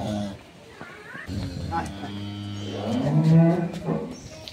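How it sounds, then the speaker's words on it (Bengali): A high-quality dairy cow on a farm lets out a low, drawn-out moo that swells louder toward the end, heard close, while people talk nearby. "এটাই হচ্ছে গাভী এটাই হচ্ছে গাভী"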